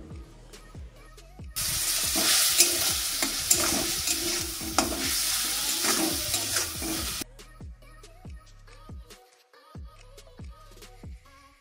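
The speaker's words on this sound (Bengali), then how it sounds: "প্রথমেই চিংড়ি মাছগুলোকে ভালো মতন ভেজে নিতে হবে।" Prawns fry in a pan with salt and turmeric, a loud broadband sizzle that swells in the middle while a spatula repeatedly scrapes and taps the pan, with quieter stirring clicks before and after.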